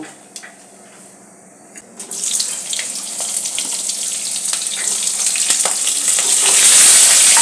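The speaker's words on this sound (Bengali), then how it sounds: "এবার আমি পটলটা ভাজবো ভেজে আমি এটা রেডি করব" Sliced pointed gourd (potol) fries in hot oil in a pan, a steady loud sizzle that swells after a quieter start and keeps crackling densely to the end.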